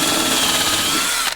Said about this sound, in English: where to drill my two holes there